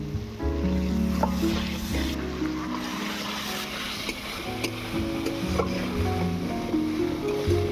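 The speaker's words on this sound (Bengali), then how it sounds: "মরিচ গুঁড়ো মশলাটাকে এবারে ভালো করে কষিয়ে নেবো অল্প একটু জল দিয়ে দিচ্ছি" Chili powder spice paste is fried with a little water, giving a soft bubbling sizzle and scraping stir strokes, close and moderate in level, with steady tonal hum layered beneath.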